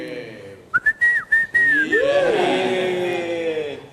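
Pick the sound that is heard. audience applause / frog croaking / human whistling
human whistling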